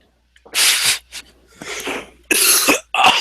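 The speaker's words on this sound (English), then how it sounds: "oh my god, this cough." A person coughs several times in harsh, raspy bursts, close up, with short pauses between the fits.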